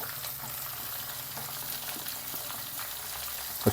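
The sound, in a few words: cumin, mustard seeds and curry leaves crackling in hot oil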